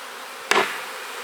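Honey bees at an opened hive hum faintly and steadily, broken by one sharp knock partway through.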